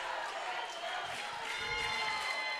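Crowd of CC Ray Texans fans cheering in the stands at a high school playoff baseball game, a steady distant roar with murmuring voices that swells slightly toward the end.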